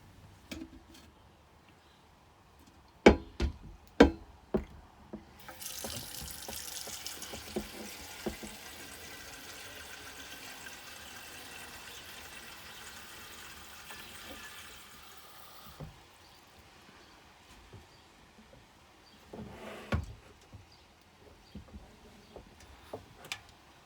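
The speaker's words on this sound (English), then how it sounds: "I can hear the water dripping" Water pours steadily into a Big Berkey filter for about ten seconds, bracketed by several sharp knocks and clicks of handling, then faint intermittent drips and taps in a quiet room.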